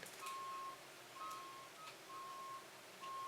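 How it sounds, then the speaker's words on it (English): Repeated electronic reversing beeps from a truck outside, a steady on-off pattern of four tones at moderate distance. "There's a truck beeping outside"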